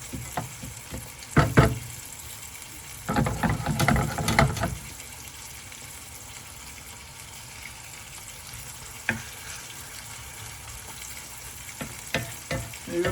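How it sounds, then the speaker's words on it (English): Pine nuts sizzling and being stirred in a frying pan, with bursts of scraping and rattling around the middle and a quieter background fry in between, no talking. "You gotta keep stirring these so they don't burn on one side"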